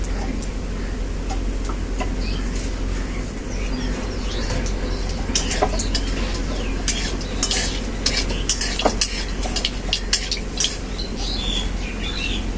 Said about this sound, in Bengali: কালো জিরেটা খুব ভালো করে ভাজা হয়ে গেছে।